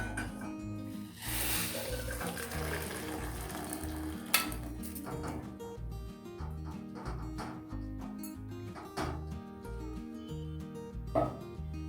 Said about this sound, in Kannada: ಈಗ ಸ್ಟವ್ ಆಫ್ ಮಾಡಿಕೊಂಡು ನೀರನ್ನು ಬಸಿತಾ ಇದ್ದೀನಿ